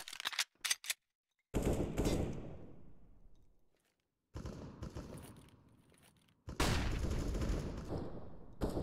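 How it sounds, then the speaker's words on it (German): Gunfire in the video game Counter-Strike during an esports match: loud bursts of rapid automatic shots in three separate volleys, with short quiet gaps between them. "Natürlich die Schüsse, die hören sie, das ist ganz klar."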